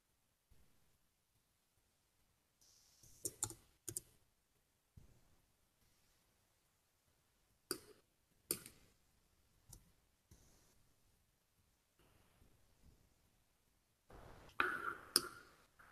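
Faint, scattered clicks and taps from a computer keyboard, arriving in irregular bursts with long quiet gaps and a denser cluster of keystrokes near the end.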